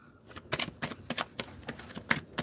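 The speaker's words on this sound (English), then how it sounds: "Shuffling for the collective." Tarot cards shuffled by hand at close range, a quick series of crisp riffling and slapping bursts in an irregular rhythm, with no voices.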